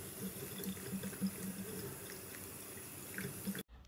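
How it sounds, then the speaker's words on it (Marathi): Tap water runs steadily into a sink while someone washes their face, a constant close rush of flow that cuts off abruptly just before the end. "त्यानंतर मी तोंड वगैरे धुवून फ्रेश झाली"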